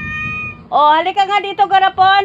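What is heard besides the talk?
pet cat meowing in reply to being called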